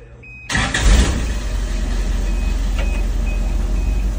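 A 1981 Toyota SR5 pickup engine catches abruptly after a short quiet lead-in, then settles into a steady, loud idle close by.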